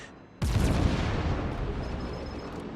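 A warship's main guns fire a single heavy boom in the video game World of Warships, a sudden loud blast whose rumble trails off slowly.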